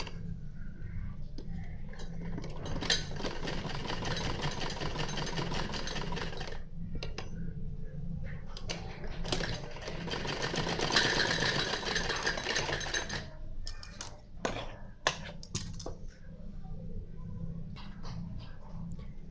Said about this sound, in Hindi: इन पे साइड में सिलाई लगानी है।